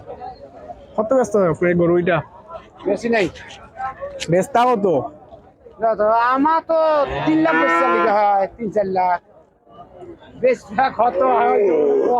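Cattle at a roadside livestock market in Paraichak, Sylhet, let out repeated loud moos close by, some long and drawn out, with short gaps between calls.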